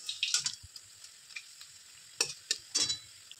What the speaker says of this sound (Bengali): এইভাবে আমি সব বড়াগুলোকে ভেজে নিব।